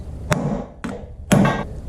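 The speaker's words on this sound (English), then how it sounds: "Just going to use a copper hammer here." A copper hammer strikes the center piece of an old Suzuki Jimny tension bearing held in a vise, three close, sharp metallic knocks at irregular spacing, the last one ringing a little longer.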